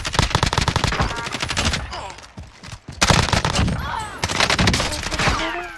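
Rapid automatic gunfire from the Warzone video game crackles in long, dense bursts, with short pauses between volleys and loud, close shots throughout.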